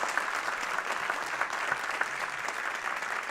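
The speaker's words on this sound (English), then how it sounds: "Can we give all three candidates a round of applause for coming tonight?" Steady audience applause at a candidates' event in Apopka, many hands clapping evenly and continuously at moderate level with no voices over it.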